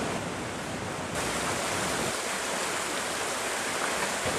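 Continuous rushing wash of stream water flowing beneath the 18th-century Bardounia stone bridge, a dense steady hiss that grows slightly fuller partway through, with no voices.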